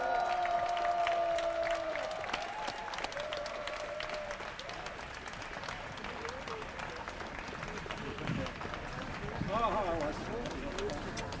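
An audience at a Seoul National University Truth Forum lecture claps to welcome a former ambassador to Russia. A brief tonal sound comes first, then moderately quiet, steady applause from a roomful of people continues for several seconds.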